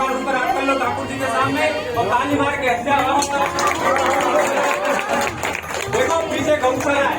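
Pilgrims in Vrindavan clap along before Thakur ji amid a busy, noisy crowd, with continuous clapping under loud chanting and voices throughout.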